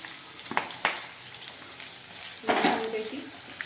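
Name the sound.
green chillies, onion and bay leaf frying in a pan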